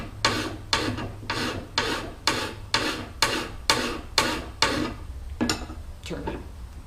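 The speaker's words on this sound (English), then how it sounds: "Now we'll sharpen this with a file." Metal file rasping along the point of a homemade throwing spear, about ten steady back-and-forth strokes in an even rhythm, close and fairly loud, then a couple of lighter scrapes.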